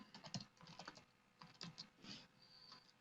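Fingers tapping out a command on a computer keyboard: quiet, close, irregular clusters of key clicks with short pauses, ending on a slightly longer press.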